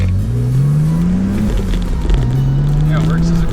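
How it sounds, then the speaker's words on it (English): A 20-year-old BMW's engine revs and drones steadily through a short burnout attempt, rising in pitch, with a voice talking over it. "Let's try and do a little burnout."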